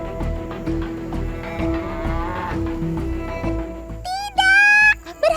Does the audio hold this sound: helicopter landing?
no